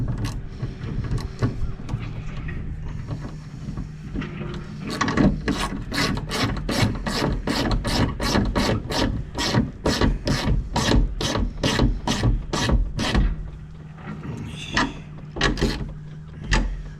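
A ratchet tightens the bolts on the rear wiper motor of a 2012–2018 Dodge Caravan, a long run of evenly spaced sharp clicks close up over a low mechanical hum.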